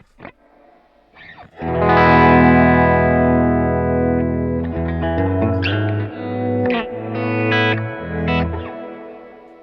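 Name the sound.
electric guitar through effects pedalboard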